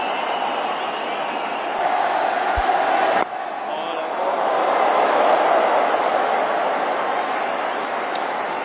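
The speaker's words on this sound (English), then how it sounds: "The single being cheered as well" A large cricket stadium crowd roars and cheers a single during Sachin Tendulkar's final innings, a broad sustained swell of noise that dips briefly and rises again, with a commentator speaking over it.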